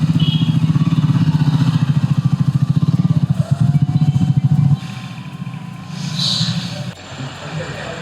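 Two motorbikes, one of them a new Triumph, ride along a road; a steady rumbling engine drone with wind buffeting dominates, then drops off sharply partway through, leaving quieter road noise.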